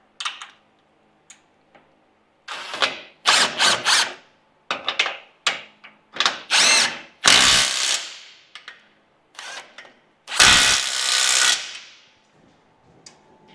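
A power tool turns a 14mm socket on a nut while a steering rack is replaced on a Toyota Hilux, heard as loud, close bursts of whirring and rattling separated by short pauses, with no talking.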